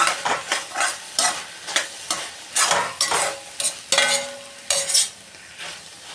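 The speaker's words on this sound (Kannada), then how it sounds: "ಇದನ್ನು ಈಗ ಚೆನ್ನಾಗಿ ಮಿಕ್ಸ್ ಮಾಡಿಕೊಳ್ಬೇಕು" A spoon stirs and mixes a cucumber and lentil curry in a pan over a low flame. Loud, close scraping strokes come in a steady rhythm over a soft sizzle, with no talking.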